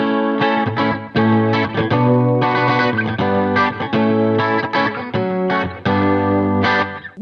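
Clean electric guitar runs through a Line 6 HX Stomp preset modeled on a Roland Jazz Chorus amp, loud and alone, with strummed chords and shimmering chorus in choppy, rhythmic phrases.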